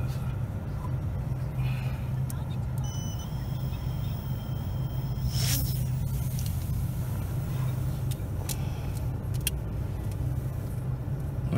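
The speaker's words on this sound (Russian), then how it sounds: "Там машина далеко вроде, да?" A car drives along a rural road some distance away, a steady low rumble persisting under a nearby wooden 10-inch drone's buzz and occasional brief whines, with people talking quietly nearby.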